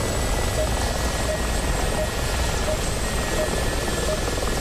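Mi-24P Hind attack helicopter in the DCS flight simulator, a steady dense rotor and turbine roar held at constant loudness throughout, with a faint rhythmic blade thump and a thin high whine.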